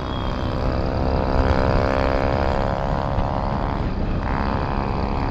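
A vehicle engine with its silencer removed runs loud and close at an outdoor Adivasi Day gathering in Jawhar, a harsh continuous drone with a steady buzzing tone that shifts slightly in pitch near the end.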